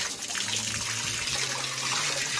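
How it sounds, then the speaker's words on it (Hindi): Heavy, steady stream of water gushing from a motor-fed tap used for bathing, a continuous loud rush without pause. "और ये भाई पानी आ रहा है फुल हैवी वाला"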